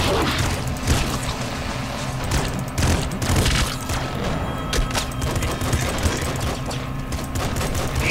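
Rapid, dense blasts from a shotgun in the video game Nuclear Throne, a loud, continuous barrage of booming shots and impacts with no pause.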